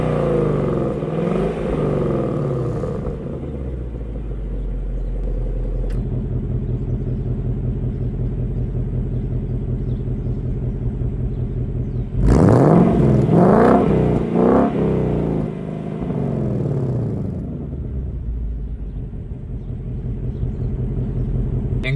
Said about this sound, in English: one of the coolest features about this Mustang is the fact that it features active valve performance exhaust